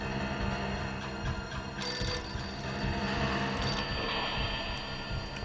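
A telephone rings in the mystery adventure game Nancy Drew: The Final Scene, a steady electronic trill repeating over a humming, droning background with no talk.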